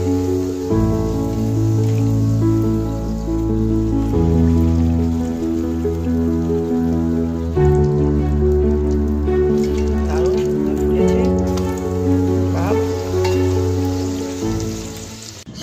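Peas-filled kachori frying in hot oil in a kadai, a steady soft sizzle and crackle running the whole time beneath louder background music.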